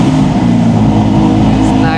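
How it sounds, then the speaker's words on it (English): A 2024 Ferrari Spider's engine runs with a loud, deep, bassy rumble, steady and close for the whole moment, no voices over it. "then you're gonna step on the brake, start the car"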